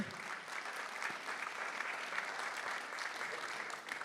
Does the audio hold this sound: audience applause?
yes